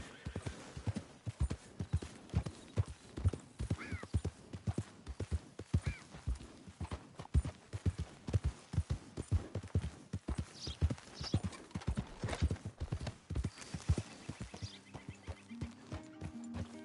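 Hooves clip-clop in a steady, brisk rhythm as a horse moves along in the video game Red Dead Redemption, close and fairly soft, with a faint snort or whinny near the end.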